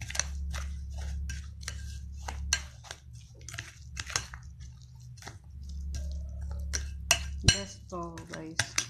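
An eggplant burger steak mixture is stirred in a bowl with rhythmic wet scraping and clinking strokes, pausing briefly, and a voice speaks near the end.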